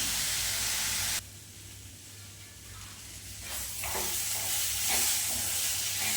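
Chopped onions fry in a pan on a gas stove, a loud steady sizzle that drops sharply after a second, then returns with crackling hiss and light stirring scrapes.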